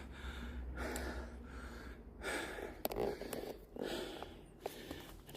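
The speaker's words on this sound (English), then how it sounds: "Sorry, I'm breathing so heavy." Heavy, labored breathing from someone exploring a cave in the Appalachian woods, a series of close, loud rhythmic inhales and exhales with a few sharp clicks and rustles between breaths.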